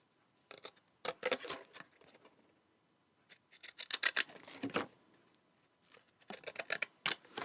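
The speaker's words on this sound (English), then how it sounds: "you can just cut away, and I'm putting the points of my scissors down the side" Scissors snipping through paper in short clusters of crisp cuts, separated by brief quiet pauses, close up and fairly soft.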